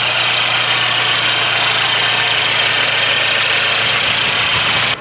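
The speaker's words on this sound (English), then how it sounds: "It purrs like a little kitty as you hear the exhaust note." A Mercedes engine idles after a warm start, with a smooth, steady exhaust note holding even and close for the whole stretch before cutting off at the very end.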